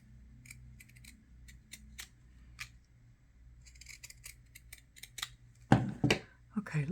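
Scissors cut through folded fabric while a button patch is made, producing a series of quiet, close snips followed by a louder burst of cutting and handling, with a voice speaking softly at times.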